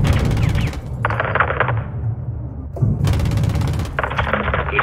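Rifle rounds fired in the Modern Warfare 2 video game, two sustained bursts of loud gunfire separated by a short lull, with a radio-style voice talking underneath.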